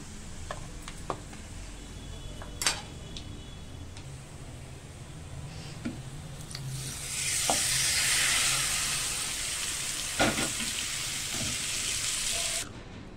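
Spices sizzle in hot oil for a South Indian tempering with turmeric and asafoetida, steady frying crackle that swells louder midway, with a few sharp clinks of a spoon against the pan.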